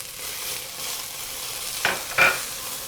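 Garlic cooks in olive oil in a pot with softened onions, giving a soft, steady sizzle, with two brief louder bursts of crackle near the end.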